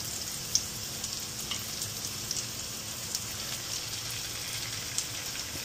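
Grilled eggplant coated in egg fries as an omelette in a pan, a steady close sizzle and crackle with small pops and spits scattered throughout, no voices over it.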